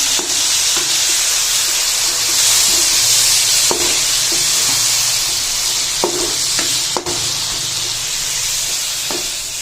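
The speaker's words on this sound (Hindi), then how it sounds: "अब इसमें हम लोग टमाटर डाल देंगे। हमने 4 अदद टमाटर लिए हैं, तकरीबन आधा किलो टमाटर थे। अब इनको मिक्स करेंगे।" Tomatoes, about half a kilo, stirred into a sizzling chicken and cabbage curry; a steady loud frying hiss runs throughout, broken by a few sharp spoon scrapes against the pan.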